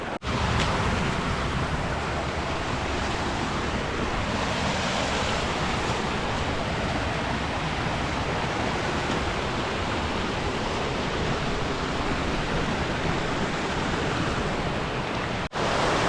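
River water and a waterfall in a steep valley rush in a constant loud broadband roar that fills the whole stretch, close by and unbroken, with no speech.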